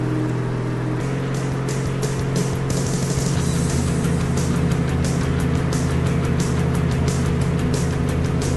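A car engine drones steadily in the H1Z1 battle royale video game, a constant mid-level hum with a shift in tone near the start and faint clicking on top, no voices over it.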